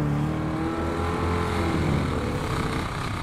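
A 1967 Pontiac GTO engine revs under the accelerator, a loud continuous rumbling roar that rises and holds close by without speech.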